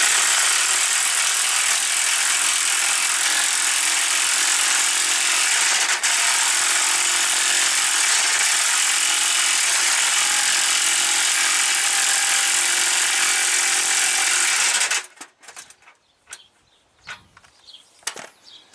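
A tool compresses the front strut spring of a Chevy Equinox, with a loud, continuous harsh mechanical whir lasting about fifteen seconds that cuts off sharply. Faint clanks and handling noises follow.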